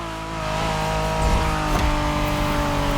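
A 1990s Honda NSX sports car driving in the racing game The Crew Motorfest, its engine holding a steady, close, sustained drone with no talk over it.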